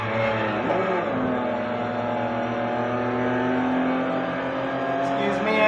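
Race cars in the GRID Legends video game: a steady, loud engine drone with layered harmonic tones as cars run close together in a slipstream, continuous throughout, under a player's voice.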